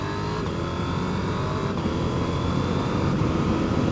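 Motorcycle accelerating hard with a rising engine note and quick-shifter upshifts, loud and close, continuous with wind roar.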